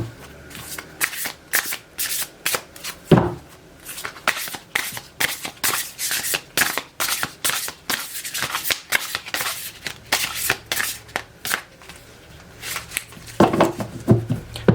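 A deck of angel oracle cards is shuffled by hand in repeated quick riffles and slides, near and fairly crisp, with short pauses between bursts and no talking.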